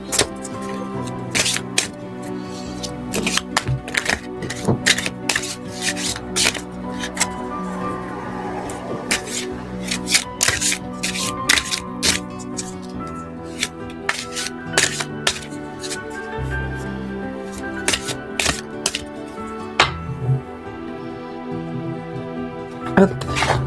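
Tarot cards stuck in their boxes being pulled out and shuffled, giving sharp irregular clicks and riffles close up under someone speaking French over soft background music.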